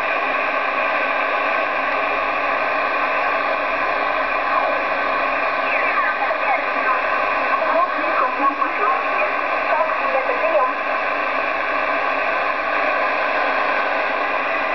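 A radio receiver tuned to a station through an aviation magnetic antenna produces steady, band-limited static and hiss with faint broadcast content underneath, continuous and loud throughout.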